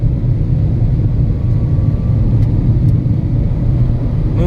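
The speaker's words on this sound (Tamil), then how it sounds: "லைட்டாக இன்ஜின் நாய்ஸ் உள்ளே கேட்குது." Volkswagen Taigun 1.0 TSI engine heard from inside the cabin while cruising at speed, a steady low hum and road rumble, muted and continuous, with no one talking.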